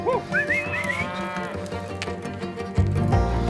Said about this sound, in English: cattle can be unpredictable during loading